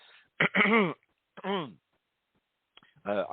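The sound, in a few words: throat clearing and coughing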